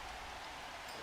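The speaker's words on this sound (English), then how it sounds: "There's big news here because it is raining." Steady, faint rain hiss falls across a football video game pitch, a soft even wash with no voices over it.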